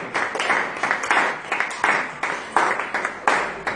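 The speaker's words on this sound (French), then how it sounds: "Donnons une acclamation à notre Dieu." A church congregation at a French-language service applauds in acclamation to God, with rhythmic bursts of clapping that rise and fall about every half second, fairly loud and steady throughout.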